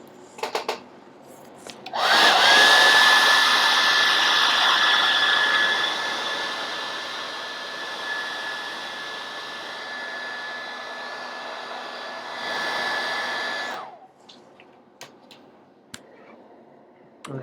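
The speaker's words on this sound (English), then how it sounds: "So let's hit this with a hairdryer." A hair dryer blows on a freshly airbrushed painted miniature, switching on with a loud whoosh and steady whine, running for about twelve seconds before shutting off, with small handling clicks around it.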